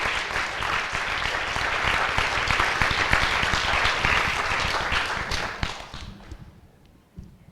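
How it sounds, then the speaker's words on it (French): Applause from the audience at a student convention session on student precarity, a dense, steady clapping crowd that holds strong for about six seconds before thinning out to a few scattered claps at the end. "Je crois qu'on peut les applaudir"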